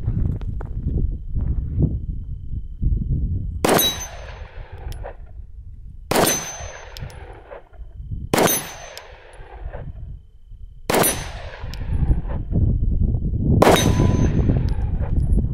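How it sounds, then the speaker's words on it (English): A Glock 45 pistol fires five single shots at a steel target plate, each a loud sharp crack with a ringing metallic clang, evenly spaced about two to three seconds apart over outdoor background noise. "And that baby is 5 for 5 hitting the plate with iron sights."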